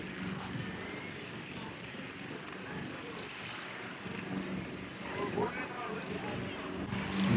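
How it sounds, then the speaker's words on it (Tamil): Racing boats powered by 25-horsepower engines speed across the open sea, giving a steady broadband roar of engines and rushing water mixed with wind noise that swells louder toward the end. "இருபத்தைந்து குதிரைகளை கொண்ட இன்ஜினை கொண்ட இந்த படகுகளுக்கான படகோட்ட போட்டி வந்து ஆரம்பமாக ஆயிடுது"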